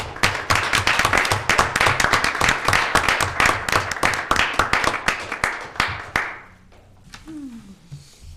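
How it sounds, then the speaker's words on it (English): Meeting attendees clap loudly and briskly together at the close of a meeting, then the applause thins to a few claps and stops, leaving a quieter room with faint movement. "let's applaud Steve"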